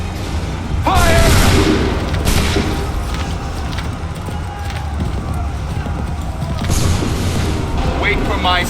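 Loud booming musket volleys in Assassin's Creed III battle, a heavy blast near the start and further shots later, with shouted voices, galloping hooves and battlefield clamor around them.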